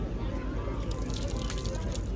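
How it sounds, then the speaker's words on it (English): Water is poured out onto grass outdoors to rinse a sticky hand after eating ice cream, a close dribbling and splashing trickle heard under people talking. "Wash it out here, the grass needs the water."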